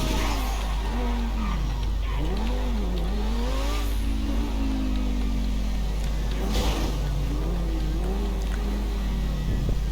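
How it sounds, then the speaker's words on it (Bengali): Engine of a Lamborghini sports car in GTA 5, droning steadily with rising and falling revs and tonal sweeps throughout, a continuous loud game-engine hum with no talk over it. "এখানে আমরা ল্যাম্বরগিনি আনছি"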